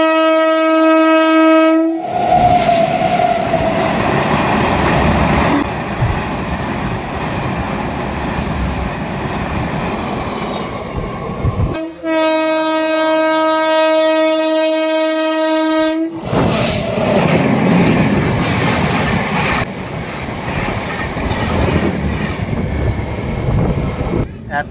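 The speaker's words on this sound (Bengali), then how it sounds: "ট্রেন ছাড়লো নিউ জলপাইগুড়ির উদ্দেশ্যে" A passenger train on the Kolkata to Darjeeling route pulls out of a station, with loud steady rumbling and rolling noise, and a long tonal horn sounding twice, at the start and again midway.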